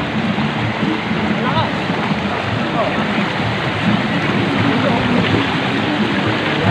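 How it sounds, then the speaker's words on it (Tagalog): Rough water churns and splashes in a constant broad wash, with wind buffeting the microphone and voices occasionally mixed in. "Lakas nga ng alon dito ah"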